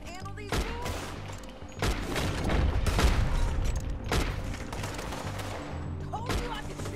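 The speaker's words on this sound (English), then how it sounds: "Told you I could shoot a gun, didn't I?" Gunfire in Red Dead Redemption 2, a rapid fusillade of sharp, loud shots in irregular bursts with booming echoes, close up, with brief voices between volleys.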